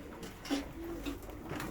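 Pigeons coo softly and repeatedly at a loft during morning feeding, low throaty calls over a steady background of rustling.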